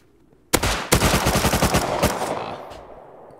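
Rapid automatic gunfire in the survival video game Rust comes as one loud, close burst of about a dozen shots, trailing off into a short echo.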